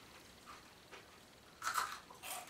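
Store-brand popcorn from Walmart or Safeway crunches between teeth, faint at first, then two clearer crisp bites near the end in a quiet room.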